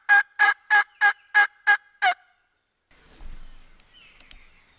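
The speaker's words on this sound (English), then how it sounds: "They'll gobble and respond, but they don't want to come into it" A wild turkey calls in the woods with a quick series of seven loud, evenly spaced notes close by. Faint rustling follows.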